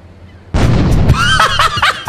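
A loud, close grenade explosion in GTA 3 bursts out of quiet, followed by a rumbling tail and short bursts of cackling laughter.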